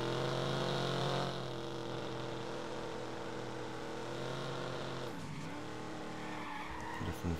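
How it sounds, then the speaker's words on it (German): A car drifts in the video game Watch Dogs, its tires skidding in a loud, sustained screech over a steady engine roar, with the squeal wavering near the end. "Schöner Drift hingelegt."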